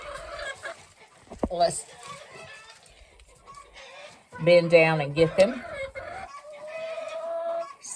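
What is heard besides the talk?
Brabanter chickens clucking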